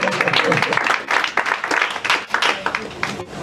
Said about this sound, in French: Si on peut accentuer les acclamations